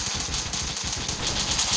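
Rapid automatic gunfire in a Roblox zombie-attack video game, a fast rattling burst of shots that runs steadily through the moment, close and fairly loud with no voices over it.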